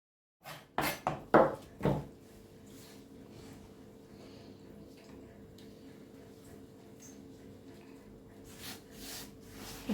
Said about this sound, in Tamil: இதை நம்ம இப்போ பொடி பொடியாக அரிஞ்சிக்க போகிறோம்.